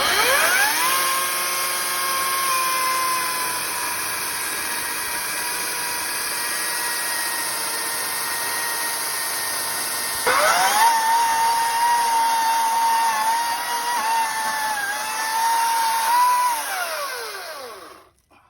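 A chainsaw runs at a steady high whine, briefly dips, then bogs down under load as it cuts a tree stump near the ground beside a foundation, before winding down to silence at the end.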